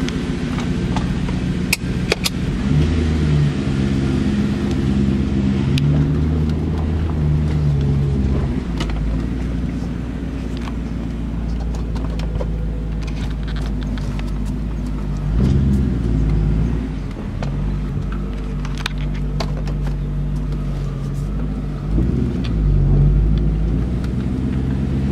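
A 2002 BMW E39 M5 is moved around at low speed, its engine a steady close rumble throughout, broken by occasional clicks and small knocks, with no voices.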